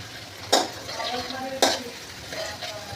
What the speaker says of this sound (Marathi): आणि आता आपण टाकूया कांदा आणि तेजपत्ता आपला कढईत गेलेला आहे, तुम्ही आवाज ऐकू शकता.